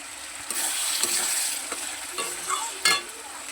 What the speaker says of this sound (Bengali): আমি ওর মধ্যেই হালকা করে একটু জল দিয়ে দেবো, আরও তেল যাতে ছাড়ে